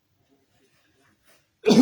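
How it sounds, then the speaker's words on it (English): Near silence, then a single short, close throat clearing bursts out at the very end. "Let me clear my throat."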